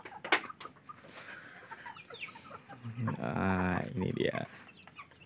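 Chickens cluck and a rooster calls out nearby, with someone talking briefly over the farmyard sounds.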